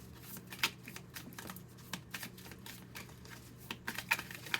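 Tarot cards shuffled and pulled from a deck: dense, close, papery flicks and soft snaps in quick irregular bursts, no voices.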